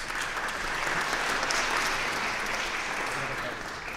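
Dense, steady applause from an audience at a live evening stage event, filling the whole stretch at an even level with no speech over it.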